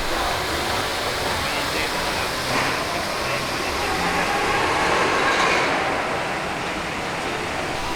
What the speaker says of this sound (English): with the sound of roller coasters in the background